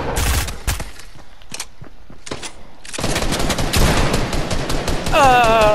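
Rapid gunfire bursts from the Fortnite video game, several sharp volleys through the first seconds, then denser continuous shooting with other game effects layered on, loud and close.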